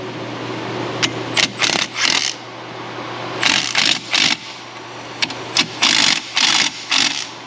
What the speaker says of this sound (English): Let's come in here and tighten these guys down and see what happens.